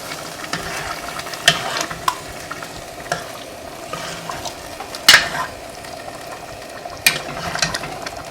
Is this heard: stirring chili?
yes